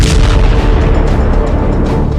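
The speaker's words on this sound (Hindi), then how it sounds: "राफा से लेकर खान यूनिस और वेस्ट बैंक तक इजरायली एयरफोर्स ने इसी तरह एक के बाद एक कई धमाके किए।" Explosions from an Israeli air force strike in the Gaza area, heard as a loud, continuous low rumble and roar that booms for a couple of seconds without clear separate blasts, with no voices.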